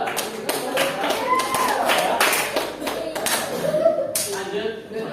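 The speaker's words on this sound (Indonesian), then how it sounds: "Oke, tepuk tangan buat Reza." Classroom of students clapping for their classmate Reza, a lively burst of many hands clapping unevenly for several seconds, with a voice speaking over it and light chuckling.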